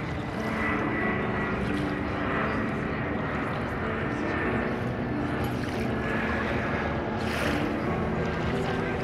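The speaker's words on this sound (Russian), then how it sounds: "Самолет." An airplane flying over a beach, its engine a steady broad roar that holds loud and constant throughout, mixed with wind, with faint voices underneath.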